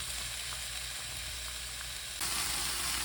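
Button mushrooms stir-frying in a pan for a vegan soy-milk cream pasta, a steady broadband sizzle with faint stirring clicks that grows louder and brighter partway through, with no voices.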